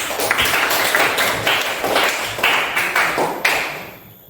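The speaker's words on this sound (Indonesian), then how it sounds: "tepuk tangan untuk Mas Agim dan Mas Agim hari ini" A classroom of children claps together, loud brisk applause with a slight rhythmic pulse that fades out at the end, close and without talking.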